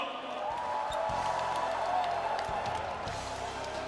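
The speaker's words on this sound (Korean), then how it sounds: "고생하신 후보자 모두에게 다시 한번 뜨거운 박수 성원 부탁드립니다" Audience applause and cheering at a Democratic Party candidates' joint speech rally for the Seoul area, Gangwon and Jeju, a dense steady wash of clapping from a large crowd lasting throughout.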